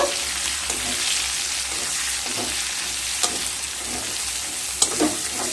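Cut potatoes frying over low-to-medium heat in a pan, a constant close sizzle with occasional soft scrapes and clicks of a spatula stirring them.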